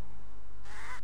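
A short bird call in the TKKG video game, a brief honking, quack-like cry near the end over a constant low background hum, with no talk.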